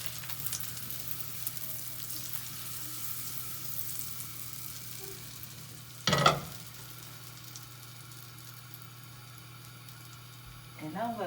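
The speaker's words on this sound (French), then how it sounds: "notre beurre a fondu. On va venir rajouter notre sucre" Sugar is added to melted butter in a pan, a soft steady sizzle broken by a sharp clatter midway and a brief scrape at the end, with a voice talking over it at times.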